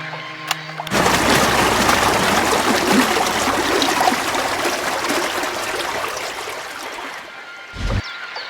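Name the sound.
water draining as water level lowers in video game Syberia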